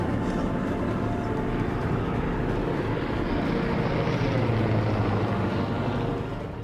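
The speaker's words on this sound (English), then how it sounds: "You're looking at this plane, and you can clearly see it." Search plane flying overhead above the Grand Canyon, a continuous broad engine drone that stays loud and steady, then fades slightly at the end, with no voices over it.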